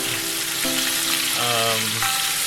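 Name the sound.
crispy chicken frying in pan on medium heat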